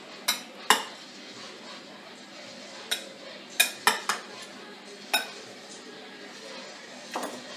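Ingredients for a piña loca are mixed by hand in a bowl, giving a series of sharp clinks and knocks at irregular intervals over a soft rustling background, with no talking.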